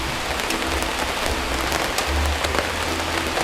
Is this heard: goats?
no